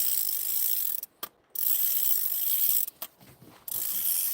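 A fishing reel's spool clicks in rapid ratcheting bursts as line is reeled in, close-up, with two brief pauses breaking the steady clatter.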